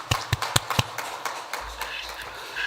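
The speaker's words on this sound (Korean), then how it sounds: "우리 찬양대 대원들 또 격려와 위로의 박수 다 같이 한번 드리도록 하겠습니다" A church congregation at a Saturday worship service claps for the choir, with several sharp, loud hand claps early on that soon thin out into softer, scattered taps.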